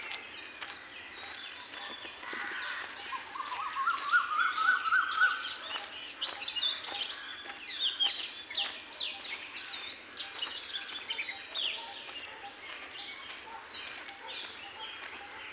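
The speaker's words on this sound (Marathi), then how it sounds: "पक्ष्यांची किलबिलाट या ठिकाणी आपल्याला दिसून येते" Birds chirping and calling at dawn on a trip from Badlapur toward Madh Island, with a mix of moderate, overlapping tweets and trills over a quiet background.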